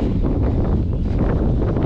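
Loud wind roars across an outdoor microphone at a marathon training session, a constant rumbling buffet that fills the whole stretch with no voices.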